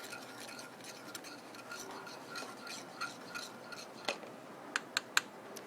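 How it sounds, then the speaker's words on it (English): A spoon stirs butter into a balsamic red wine reduction steak sauce, with faint scraping and soft taps that end in a few sharper clicks against the pan. "you're just going to stir that in"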